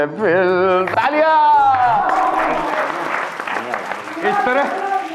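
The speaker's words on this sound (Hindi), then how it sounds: "तालियां।" Clapping from a group in a Hindi comedy classroom scene swells over a sung line, a steady broadband patter lasting several seconds before a voice sings again at the end.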